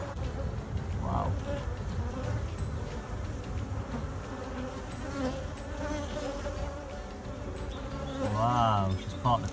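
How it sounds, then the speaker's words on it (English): Honeybees buzzing around a hive outdoors, a steady close insect drone with individual bees flying past and swelling louder near the end, a faint voice briefly underneath. "There's a new bee. She's going to live for 6 weeks."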